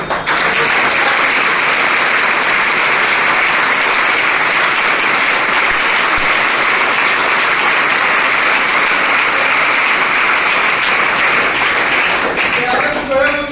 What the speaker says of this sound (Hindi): सबसे पहले तो एक बार जबरदस्त तालियां बजाना